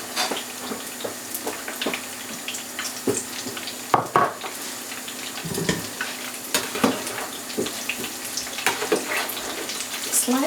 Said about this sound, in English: and throw them in for deep frying.